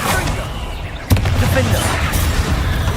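In the video game Hogwarts Legacy, a Confringo spell hits with a sudden sharp blast about a second in, followed by a steady rumbling roar of game noise.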